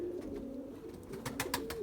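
Young pigeons being flown coo softly in a short stretch, low rolling calls over faint background noise, with a few brief brighter bursts near the end; no one speaks.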